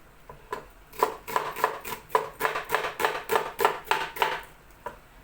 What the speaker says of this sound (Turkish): Çok ufak doğramıyorum.